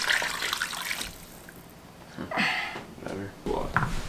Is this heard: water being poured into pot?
yes